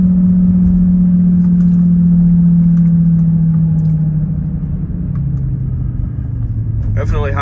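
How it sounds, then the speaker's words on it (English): Military high-water vehicle towing a Humvee passes on a Baton Rouge road after Hurricane Ida, a heavy, steady low engine rumble that holds loud and then slowly drops in pitch as it goes by. "we're coming up on a military high water vehicle that's going to pass us on the left"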